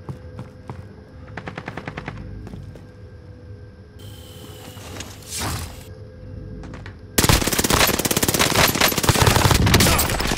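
Automatic gunfire in Call of Duty: Modern Warfare: short scattered bursts of machine-gun fire at first, then a loud, dense stretch of sustained shooting near the end.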